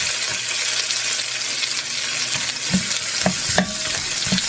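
Golden-browned garlic and freshly added onion fry in a pan for a chicken and broccoli stir-fry, giving a close, steady sizzle broken by several sharp knocks and scrapes of a spatula stirring, with no voices.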